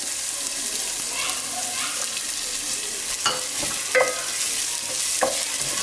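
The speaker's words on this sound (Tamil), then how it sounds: "வெங்காயத்தை சேர்த்துட்டு வெங்காயத்தை நல்லா வதக்கி விட்டுருவோம்" Chopped onions sautéing in hot oil for cauliflower fried rice, a soft steady sizzle with a few scraping stirs of a spatula against the pan, close and moderately loud, with no talk.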